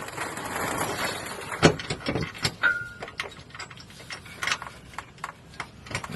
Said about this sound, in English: I'm gonna bolt it down first and see exactly how well it fits